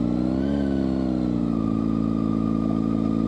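A motorcycle engine revs steadily up close, a continuous droning rumble that rises slightly early on and then holds at a constant pitch.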